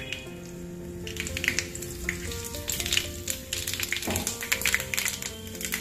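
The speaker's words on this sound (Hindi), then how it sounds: "अब हम उसमें राई डालेंगे और उसमें तड़कने तक भूनेंगे।" Mustard seeds frying in two tablespoons of hot oil in a pan, crackling and popping in rapid irregular bursts over a steady sizzle, fairly close and clear, with faint tapping of a utensil.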